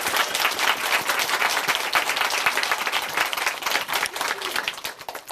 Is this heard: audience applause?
yes